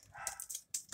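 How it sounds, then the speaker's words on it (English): A dog in a bedroom gives a couple of short, faint yips or barks, quick and close together. "My dog's in my room."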